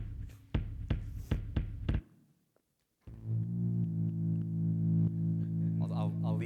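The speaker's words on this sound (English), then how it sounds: "this is the sound of some feet bacteria" Synthesized microbial music generated from foot bacteria data plays loudly, a throbbing electronic tone with pulsing beats that cuts out briefly, then resumes as a sustained buzzy drone with rising tonal sweeps toward the end.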